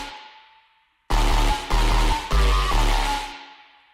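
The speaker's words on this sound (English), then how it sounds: "You know, your reverb, this reverb's a little bit springy," A synth plays through a springy, slightly harsh reverb on an electronic dance track. A decaying reverb tail fades out, then loud, dense chords hit in rhythmic bursts before ringing off.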